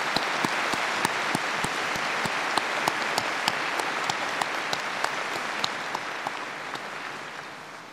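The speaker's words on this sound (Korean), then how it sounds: "깊은 감사와 환영의 큰 박수를 드리고자 합니다" Large audience at the national memorial ceremony for the 73rd anniversary of the Korean War applauds descendants of UN veterans: a steady wash of many hands clapping, loud and sustained, with distinct sharp claps punctuating it and slowly tapering toward the end.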